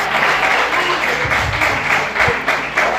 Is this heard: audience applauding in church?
yes